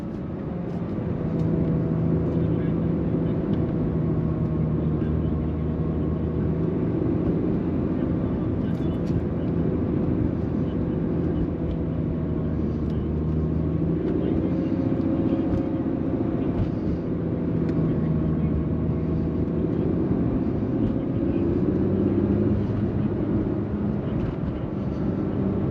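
A 2022 Acura NSX Type S pulls around the Sears Point Raceway track, its engine a loud, steady drone with shifting harmonic tones throughout, while voices talk over it.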